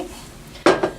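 Gingerbread cookie dough being worked with a spoon in a bowl of flour, two short scraping, clinking knocks close by after a stretch of near-quiet.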